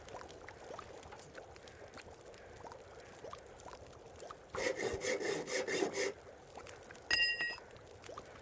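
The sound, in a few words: sawing with a hacksaw in The Long Dark video game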